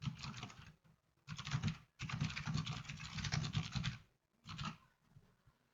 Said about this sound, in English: And here let's type what is the customer name.